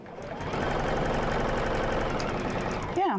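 Domestic sewing machine running a short back stitch on a fabric napkin holder, a steady close mechanical whir lasting a few seconds before it stops, with a voice faintly present.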